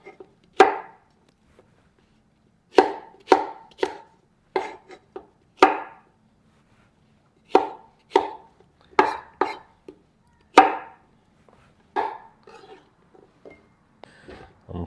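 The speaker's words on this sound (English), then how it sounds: "Now I'm going to cut the okra. I already washed them, so I just slice them like that." A knife slices through washed okra on a board in a quiet kitchen, giving sharp, isolated cutting taps in uneven bursts, some single and some in quick clusters of two or three, close and distinct with no voices.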